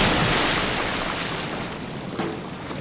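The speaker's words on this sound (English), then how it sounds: "He just dived into the fucking water." A character plunges into icy water in the game Cryostasis, heard as a loud, broad rush of splashing and churning water that fills the whole stretch and slowly eases off, with a small surge near the end.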